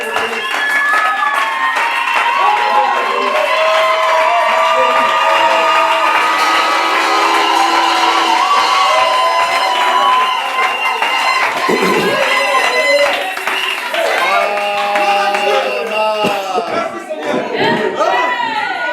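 A church congregation cheering and applauding during a sermon, a loud, sustained roar of shouts, whoops and clapping from a large crowd, with voices calling out over it before it thins toward the end.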